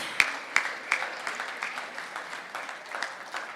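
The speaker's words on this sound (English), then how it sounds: "Please give our partners and our sponsors a round of applause." A conference audience at an African startup ecosystem summit claps for partners and sponsors, a few sharp close claps standing out at first and then settling into a moderate, even round of applause.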